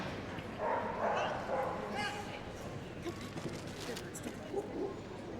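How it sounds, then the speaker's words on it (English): A three-year-old border collie runs an agility course at a large indoor competition; scattered barks and yips come through a steady crowd murmur and a commentator's voice. "Third dog is off, which is Edwina Brown, working Pip, a border collie, 3 years of age."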